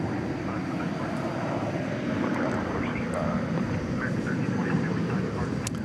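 Aircraft noise from an Airbus A300 cargo jet, 24 years old, bound for Louisville from DFW Airport at night: a steady broad engine roar at a distance, with faint talk underneath.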